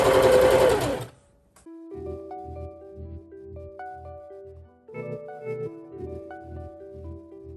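A sewing machine stitches a fabric loop. After a brief loud burst of noise, the motor settles into a steady, close, rhythmic chatter with a pulsing hum that carries on to the end.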